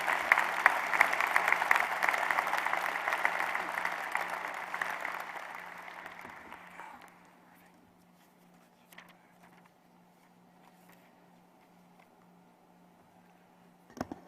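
A convocation audience at a university medical school claps to welcome a speaker to the podium: dense applause for several seconds that thins and fades out, followed by quiet room hum and a sharp knock at the end.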